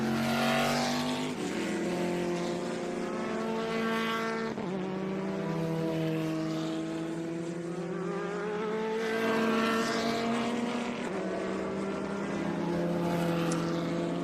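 Vintage race cars at Sebring circuit, including a Lola, a 1995 Rolt RT41 SR and a Swift, roar past in a continuous loud engine drone with shifting pitches as cars pass and chase one another.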